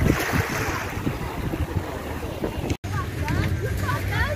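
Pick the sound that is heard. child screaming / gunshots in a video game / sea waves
sea waves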